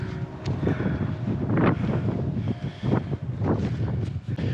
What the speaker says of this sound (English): The wind is really picked up, as probably you can hear.